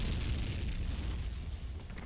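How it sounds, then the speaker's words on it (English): Explosion in a video game, heard as a heavy, sustained low boom that rumbles on with a dense noisy tail and slowly fades, with no talk over it. "It was a huge explosion."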